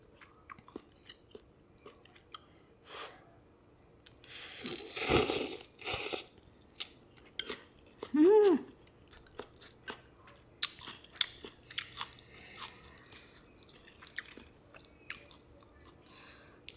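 A giant shrimp in tom yum ramen is chewed close up, with wet bites and soft crunches clustered in the middle, a louder bite burst, then scattered quieter chewing and mouth sounds.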